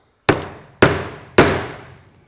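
Three sharp, loud metallic taps about half a second apart, each ringing briefly, as a socket drives a seal into a housing on a Massey Ferguson 65 tractor engine's tacho drive; no voices.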